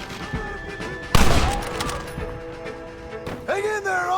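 A heavy burst of gunfire erupts in a Red Dead Redemption shootout on a porch, a dense crackling volley after a quiet stretch, followed by a voice shouting over the game sounds.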